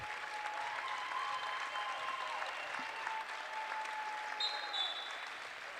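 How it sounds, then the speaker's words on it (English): Crowd at a C6 D6 semi-final sports game applauding as a player comes off, a steady, fairly distant wash of clapping running throughout at low level. "even some people in the crowd stood up and cheered for Estrada as he came off"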